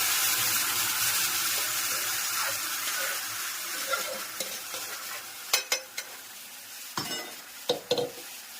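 A hot tempering of green chili, ginger and boiled fenugreek leaves sizzles loudly and close at first, then gradually settles. Toward the end, a series of sharp spoon clatters and scrapes against the pan rise above the fading hiss.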